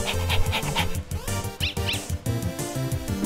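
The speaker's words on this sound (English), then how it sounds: "Lesser dog is barking excitedly." Lesser Dog from the Undertale video game barks excitedly in chiptune-style game audio, a string of short repeated yips over looping background music, with no talking.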